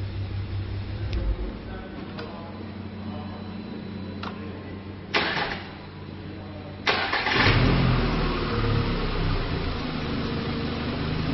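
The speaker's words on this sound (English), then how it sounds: "And turn off the engine before, press the enter. And now we will start the engine." A car engine cranks and starts during a battery starting-system test with a handheld battery tester, the crank bursts near five and seven seconds followed by a steady running idle close by.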